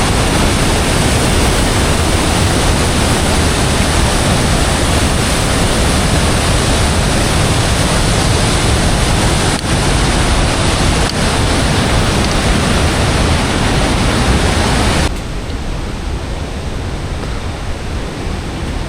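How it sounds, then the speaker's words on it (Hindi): Loud, unbroken roar of a swift mountain river on the Valley of Flowers trail near Badrinath, a broad wash of rushing water that dips slightly in level near the end. "यार आप इस नदी का फ्लो देखो,"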